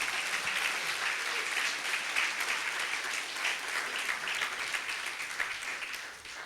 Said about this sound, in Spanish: Denle un aplauso al Señor por lo que ha hecho con sus vidas